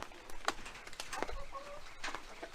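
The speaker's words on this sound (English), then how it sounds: "Look at those chickens eating right there." Chickens cluck in short, scattered bursts nearby, with soft background rustling and no talking.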